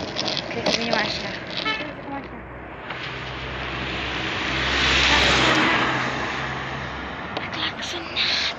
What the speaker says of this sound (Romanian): Mă claxonează mașinile.